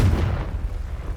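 A Confringo blasting spell explodes in the Hogwarts Legacy video game with a heavy, booming burst. A deep rumble decays over about a second.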